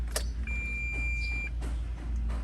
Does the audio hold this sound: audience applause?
no